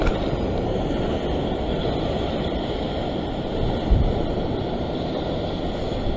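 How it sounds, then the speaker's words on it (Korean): Ocean waves surge against a rocky fishing point near Kurnell in Sydney, giving a continuous broadband wash of water and wind, steady and full, with one brief thump partway through. "파도가 막 밀어주네요"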